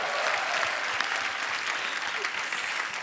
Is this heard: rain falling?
no